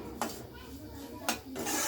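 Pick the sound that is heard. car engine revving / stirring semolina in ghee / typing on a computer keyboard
stirring semolina in ghee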